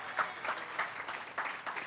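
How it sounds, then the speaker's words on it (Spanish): A church congregation applauds during a Sunday sermon, mid-distance clapping with a few louder bursts standing out, steady throughout and without speech. "Denle un aplauso al Señor."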